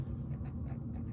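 A purple pen writes on paper, a quiet close scratching with a few short strokes in quick succession.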